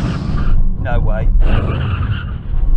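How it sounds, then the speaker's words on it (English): A Nissan GTR and an Audi RS6 braking hard from 70 mph on a track, a loud rushing roar with a short tire-squeal sweep, heard up close and mixed with a voice talking. "now we're going to do a brake test from 70 miles an hour"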